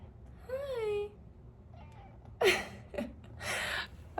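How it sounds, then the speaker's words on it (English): A kitten gives a short, high, wavering meow, followed by soft rustles and a few breathy bursts nearby. "kitten"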